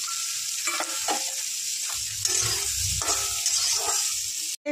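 Soybean chunks fry in butter in a pan for fried rice, giving a loud, constant sizzle broken by scraping stirs, with a short gap just before the end.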